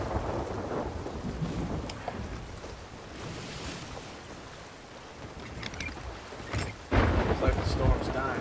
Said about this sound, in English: Looks like the storm's dying a little bit.